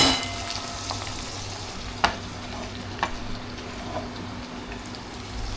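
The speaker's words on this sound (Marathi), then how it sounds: "कांदा टाकून आपण प्रॉपर हलवून घ्यायचं" Chopped onions fry in oil in a pan for a home-cooked chicken dish, with a soft continuous sizzle. A spoon or spatula knocks and scrapes against the pan a few times as they are stirred, close by, with no talking.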